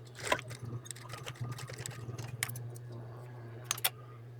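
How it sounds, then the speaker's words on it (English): A sewing machine back stitching a fabric belt loop attached to a buckle, with a steady motor hum under short bursts of stitching and clicks. "I'm gonna back stitch on each side."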